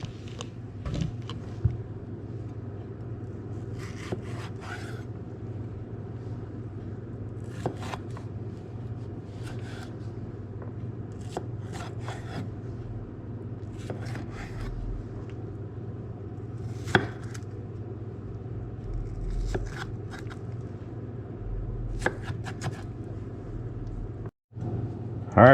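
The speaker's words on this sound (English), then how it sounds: "Let's go ahead and cut the tomatoes." A knife cuts a single tomato on a board, with sparse, irregular sharp chopping taps spread over a low steady background hum and no voices.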